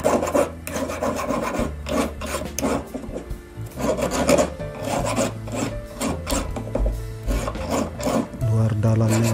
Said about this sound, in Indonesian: Kikir sedikit biar bentuk agak membundar.